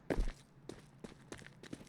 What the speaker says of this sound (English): A lot of footsteps heard on the CTs.